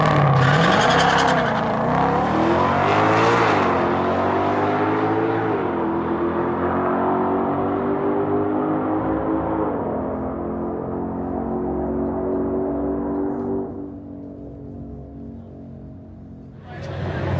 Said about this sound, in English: when he lifts his foot off the brake is when he takes off down the drag strip